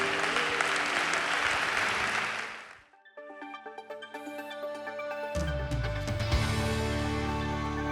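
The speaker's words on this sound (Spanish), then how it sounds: "aplauso fuerte al Señor." Loud, dense applause for about three seconds fades out at a church worship service, followed by music with keyboard chords.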